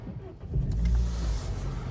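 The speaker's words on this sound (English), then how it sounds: "So let's just turn the ignition on and start her up." A 2013 Vauxhall Corsa SRi with its 1.4-litre 100bhp petrol engine turns over and catches at around half a second. A low engine rumble then settles into a steady idle close by, with the cabin blowers whooshing over it.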